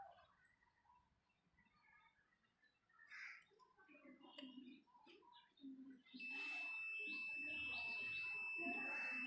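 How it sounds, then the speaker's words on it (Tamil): A multimeter set to continuity mode gives a steady, unbroken high beep that starts partway through and holds to the end, while a person keeps talking over it. "இது வந்து பீப்பிங் சவுண்டு வருதா அப்படின்னு சொல்லி செக் பண்ணுறதுக்கு"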